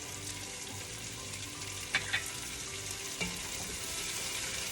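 Chopped celery and carrot with salt, pepper and garlic powder cooking in a soup pot, a steady close sizzling hiss with a couple of faint clinks partway through and no talking.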